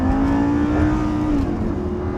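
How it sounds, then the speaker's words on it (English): A Lamborghini engine hums steadily and close by, with a smooth, sustained tone whose pitch shifts slightly as it pulls under acceleration. No voices are heard. "It's got a lovely engine note."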